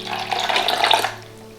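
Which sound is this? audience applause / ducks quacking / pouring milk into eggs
pouring milk into eggs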